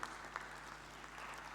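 Audience clapping hands at an oil and gas conference in Tanzania, a steady, faint wash of applause from a distant hall, even and continuous throughout.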